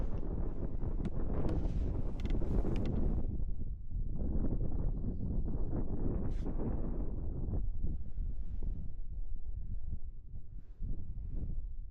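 Steady wind buffeting the microphone at a lake, a continuous rough rumble with gusty surges, loud and close throughout with no voices.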